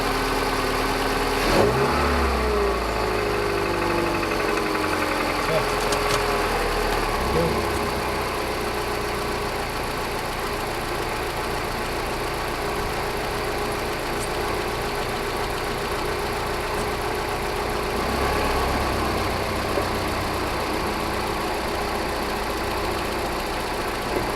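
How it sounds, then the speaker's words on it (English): A car engine runs steadily as the car drives down a road, a mid-pitched hum with mild revving and some knock-like rattle, close and continuous for the whole stretch with no talking. "I'll just drive it down the road a couple blocks"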